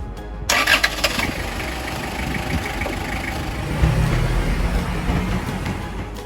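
A Toyota Estima Emina with the 3C diesel engine cranks and catches after a short pause, then settles into a steady, rough low rumble that swells briefly as it pulls away, close and loud with no talk.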